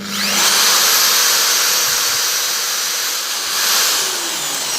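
A small 12V DC motor spins at high rpm as a generator, giving a loud, steady high-pitched whine and whir throughout, with a brief swell in pitch near the end and no talk.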